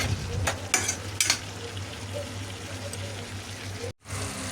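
Chicken pieces and vegetables fry in a pan with a steady, moderate sizzle. A few sharp stirring clatters come early, then a brief cut to silence and the frying resumes.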